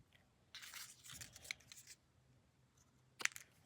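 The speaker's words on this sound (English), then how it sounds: "We're going to just trim the stems right off." Scissors snip through palm frond stems in a few quick, crisp cuts, with short rustles between them and one sharper snip near the end. The sounds are fairly faint and close, and no one speaks.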